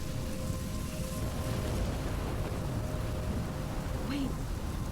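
Steady heavy rain pours through a storm in Life Is Strange, a dense, even hiss with faint distant rumbles and no talking.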